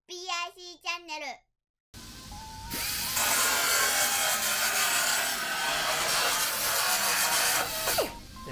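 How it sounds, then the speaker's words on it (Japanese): Grinder on a weld in the steel quarter panel of a Nissan Elgrand during quarter replacement: a loud, steady, harsh grinding roar runs close up for most of the clip after a brief spoken line and a short pause. "さっき溶接したところはもう一回削り直しですね"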